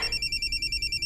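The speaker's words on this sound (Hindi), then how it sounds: "ससुर जी का फोन है" A telephone rings with a steady electronic trill, loud and close, pulsing in regular bursts with no voices over it.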